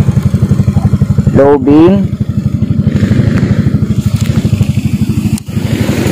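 A Yamaha Mio i125 scooter engine starts and runs with a steady, rapid close putter, while someone talks briefly over it.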